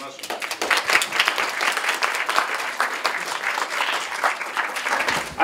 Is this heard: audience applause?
yes